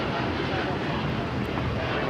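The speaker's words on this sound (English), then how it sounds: "This is United Airlines 198 taking off to Shanghai on the 787-9 Dreamliner." A United Airlines Boeing 787-9 Dreamliner takes off at LAX, heard as a steady, broadband engine roar with wind-like rushing that stays even and fairly loud from start to finish.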